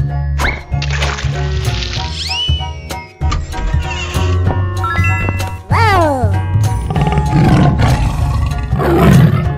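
Cartoon tiger roar in a children's animal cartoon, loud and layered over a steady bouncy music bed with jingles and whooshing sliding effects throughout.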